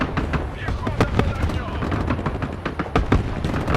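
Grenade launcher fire in the Broken Arrow war game comes as rapid, irregular loud bangs and thumps, with blasts crackling over one another amid constant battle noise while someone talks over it.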